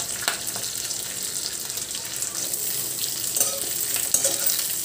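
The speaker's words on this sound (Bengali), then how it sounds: "এই ক্যাপসিকাম কেটে রেখেছি এইভাবে ক্যাপসিকামও দিয়ে দিলাম" Capsicum, ginger and green chillies fry in a pan with a continuous close, bright sizzle, broken by a few soft knocks of stirring.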